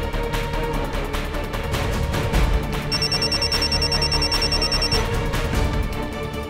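A telephone bell rings in steady repeated bursts for several seconds, fairly loud over a busy background of music and room noise in a Hindi TV drama scene.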